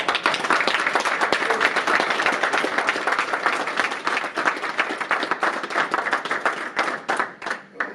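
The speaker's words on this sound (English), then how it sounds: "I want to give you a round of applause." Sustained applause and clapping from an audience at a men's mental health awareness event, dense and steady for several seconds before thinning out with a few scattered claps at the end.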